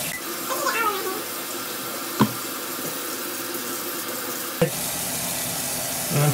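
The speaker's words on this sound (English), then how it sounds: "They're getting water on my face." Water running from a tap while a child's hair is washed, a steady close hiss with a couple of sharp clunks, faint voices beneath.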